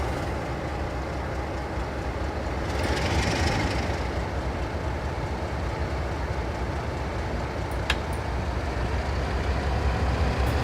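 Train engine building up in Railworks 3 Train Simulator: a steady low rumbling drone with a hissy swell partway through and a sharp click near the end, no talk.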